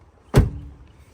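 A car door on a 1985 Mercedes W123 300D swings shut with one solid, close thud and a brief resonant tail, then quiet.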